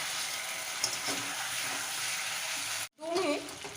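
Fish heads sizzle and fry in a spice masala for Bengali muri ghonto, a steady bright crackle that briefly cuts out near the end, followed by a few scraping stirs in the pan.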